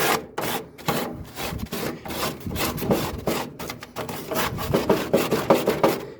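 A metal scraper rasps repeatedly across a BBQ grill grate caked with burnt grease, loud close strokes in an uneven back-and-forth rhythm with short pauses between scrapes.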